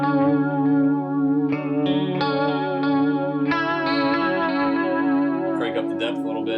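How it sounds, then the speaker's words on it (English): An electric guitar run through a Kemper with vibrato engaged plays sustained notes and chords whose tone wavers steadily, fairly loud and close, with no talking over it. "And then vibrato."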